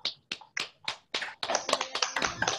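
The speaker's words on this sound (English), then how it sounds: "so we can give a round of applause to our speaker for today" Sparse scattered claps from a small webinar audience applauding the speaker after a photography talk, starting as separate hand taps and thickening into a denser patter of clapping, fairly close and moderate in level.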